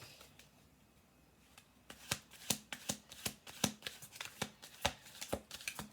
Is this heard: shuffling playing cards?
yes